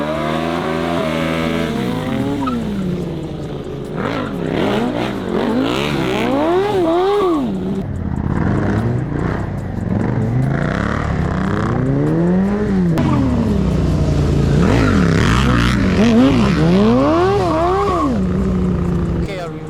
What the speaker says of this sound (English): we're gonna drift together with my teammate in a very tight corner, and it's very hard to control the bike